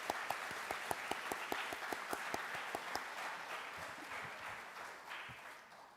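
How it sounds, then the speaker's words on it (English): Audience applause at a school athletic awards ceremony, a steady crowd of clapping hands with sharp individual claps standing out, holding evenly before gradually thinning and fading. "Let's give Christy a round of applause."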